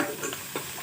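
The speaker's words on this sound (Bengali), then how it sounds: "তো মাছ এখানে ভাজতেছি" Fish frying in a pan, a close, continuous sizzle with small crackles over less than a second.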